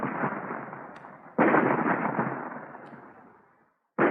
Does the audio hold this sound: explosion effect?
yes